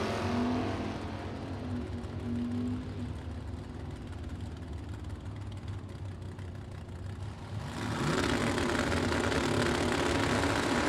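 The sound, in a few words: drag race between a '78 Camaro and an '88 Camaro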